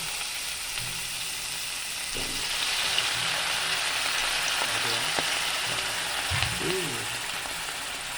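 White onion sautéing in hot oil in a pan, a steady, close sizzle and crackle running throughout, with a few soft stirring knocks and a brief murmur of voice.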